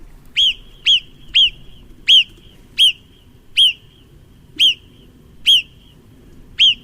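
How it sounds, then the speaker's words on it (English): A series of nine sharp, high-pitched whistling calls from a marmot, each brief and piercing, repeated at fairly regular intervals over a faint background. "that's the recording of a marmot"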